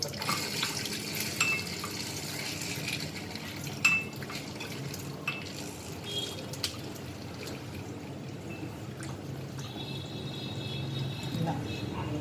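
Running tap water pours over chicken pieces being washed in a kitchen, a steady stream with clinks of pots and handling, and a voice talking over it.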